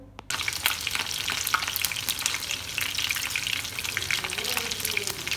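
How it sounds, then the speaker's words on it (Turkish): Stuffed Turkish meatballs (içli köfte) sizzling and crackling in hot oil, a steady dense fry starting suddenly after a brief quiet moment, close and continuous. "Bakın birazını kızartıyorum."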